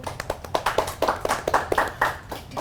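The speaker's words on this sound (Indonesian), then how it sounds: "boleh tepuk tangan dulu" A small audience at a talk show on regional fashion and batik claps for a guest entrepreneur: a quick run of distinct, fairly close hand claps in an uneven rhythm, moderately loud and without talk.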